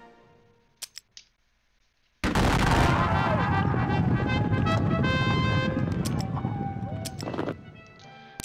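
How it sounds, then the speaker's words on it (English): French artillery fire in a Waterloo battle video game: after a few faint clicks, a sudden loud cannon blast erupts and rolls on as sustained booming battle noise before tapering off. "Oop, French artillery."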